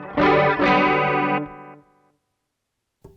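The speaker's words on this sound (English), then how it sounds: "it's a great chorus, regardless of what you think of any brand that makes them" Guitar run through a Behringer Chorus Symphony chorus pedal: loud shimmering strummed chords with a swirling, slightly distorted wash, ringing out and decaying to silence, then a brief quiet pick noise at the end.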